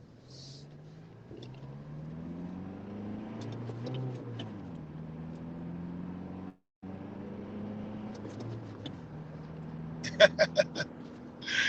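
A small Toyota Hilux four-door quad-cab diesel pickup with a stick shift drives along, its engine note climbing and dropping through gears, with a voice talking over it and a brief dropout midway.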